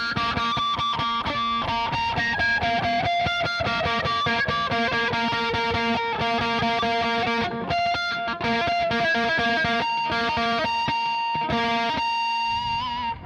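A heavily distorted electric guitar plays a run of notes with pinch harmonics, squealing high overtones ringing over a gritty, sustained tone, loud and alone.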